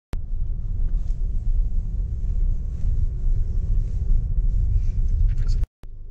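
A car cruising along snowy roads in Arnold, California, with a steady, loud low rumble of engine and tires close to the mic and wind buffeting throughout, then a brief cut near the end before the drone resumes.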